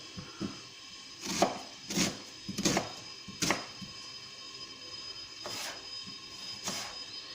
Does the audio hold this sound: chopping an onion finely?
yes